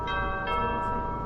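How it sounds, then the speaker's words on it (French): A doorbell chimes inside a house in the Pineview Drive horror video game, a sustained ringing bell tone with steady harmonics filling the short moment, moderately loud with no talk over it. "ça sonne à la porte"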